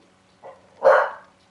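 A single dog in Alan Wake 2 lets out a soft lead-in huff followed by one full, loud bark at close range, with nothing else around it.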